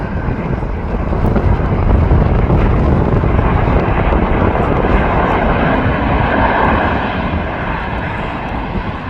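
A Gulf Air Boeing Dreamliner jet at Manchester Airport: a loud, steady engine roar that swells and holds for several seconds, mixed with rumble and wind buffeting on the microphone, with no voices.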